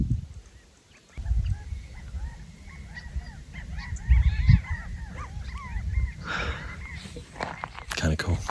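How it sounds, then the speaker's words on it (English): Birds on Catalina Island along the Trans Catalina Trail give repeated chattering, monkey-like calls from many directions. The calls run for several seconds before a person starts talking over the last part. "So there's these birds that kind of sound like monkeys."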